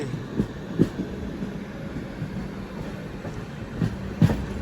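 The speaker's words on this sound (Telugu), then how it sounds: "వాగ్ 9 లోకోమోటివ్ లాలాగూడ షెడ్ అయితే పెట్టారు" The Satavahana Superfast Intercity Express, with LHB coaches and hauled by a Lalaguda shed WAG-9 electric locomotive, rumbles past near Charlapalli. A low, moderate rolling noise is broken by several sharp wheel clacks at uneven intervals.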